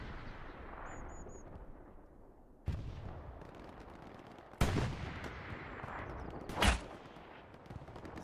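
Satchel charge blowing up on a tank in Hell Let Loose amid a battlefield, with several sharp, loud detonations and gunshot cracks spaced apart over a rumbling background, the biggest blasts coming in the second half.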